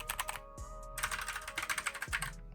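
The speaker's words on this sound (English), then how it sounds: "See, that other keyboard's a little louder," Rapid keystrokes on a mechanical keyboard fitted with yellow switches, close and crisp, with clustered clacks and short pauses and no voices.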